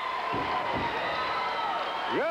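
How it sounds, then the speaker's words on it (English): A capacity crowd at a 1984 WWF professional wrestling arena claps and cheers in a steady, roaring wash, with a commentator's voice running over the noise. "Listen to this capacity clap."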